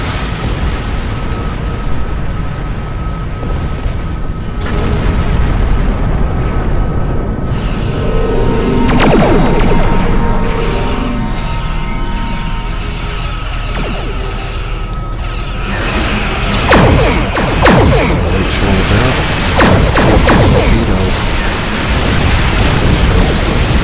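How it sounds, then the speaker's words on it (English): Crest wave weapon firing from a battleship in Star Trek Online, heavy booming blasts and rumbling bursts layered over continuous dense noise, loud throughout with surges around the middle and later on. "we'll use the crest wave weapon"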